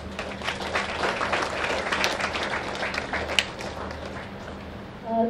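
An audience at a university literary association's inauguration applauds to welcome the chief guest, a steady patter of many hands clapping together at moderate level that fades toward the end.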